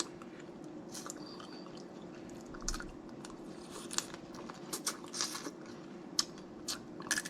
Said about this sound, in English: I don't think there is a way to eat crabs that's not messy.